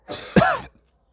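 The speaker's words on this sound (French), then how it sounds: "j'ai la toux" A single short cough, close and clear, with a throaty rasp, then silence.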